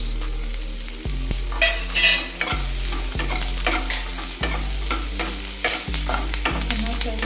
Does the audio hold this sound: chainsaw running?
no